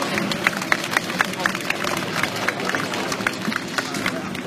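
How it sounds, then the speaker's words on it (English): A crowd claps steadily with scattered sharp claps over a noisy background murmur, continuous throughout, at an army open house defence display. "Let's give it a round of applause"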